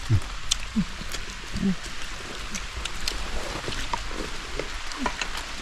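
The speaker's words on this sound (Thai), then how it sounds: "ฝนตกเลยครับ" Rain falls in a deep forest as a steady, soft hiss of drops on leaves and surfaces, with someone speaking briefly over it and a few louder taps throughout.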